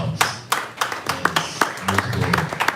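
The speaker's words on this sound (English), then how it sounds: "A round of applause." Scattered audience clapping at a regional health performance review meeting, irregular individual claps close by, overlapping with a voice speaking.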